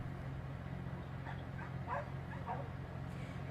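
Several faint dog barks and yips sound in the distance at an animal shelter during a wildfire evacuation, over a steady low hum, scattered across a few seconds.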